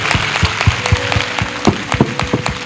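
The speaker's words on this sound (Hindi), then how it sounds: "मैं चाहता हूं हम सब मिलकर प्रभु के लिए एक अच्छी ताली बजाएं" An audience at a Hindi Christian church message claps for the Lord, fairly close, with irregular overlapping claps building into scattered applause.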